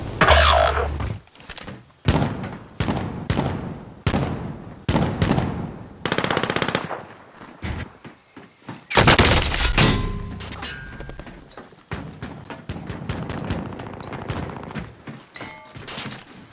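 Video game gunfire comes in repeated loud bursts and single heavy shots, spaced irregularly with short pauses. A dense louder volley comes midway, then scattered lighter pops follow.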